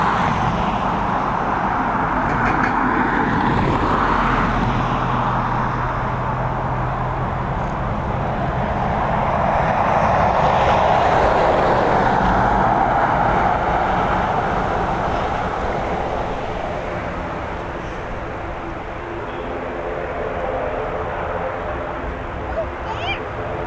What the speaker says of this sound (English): Let's get ready for the ATR's arrival now